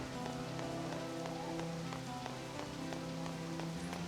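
Rain falls in the farming video game Harvest Moon Animal Parade, a steady soft patter with scattered drop ticks over a sustained tonal background hum, continuous and moderately quiet with no speech.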